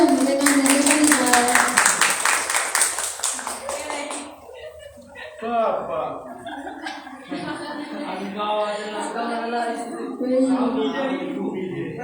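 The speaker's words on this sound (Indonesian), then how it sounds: "Beri tepuk tangan yang meriah untuk rekan dan rekan." Audience applause at an evening installation ceremony for a student organisation's new board, a dense burst of clapping for the first four seconds that fades into chatter and talk from the crowd.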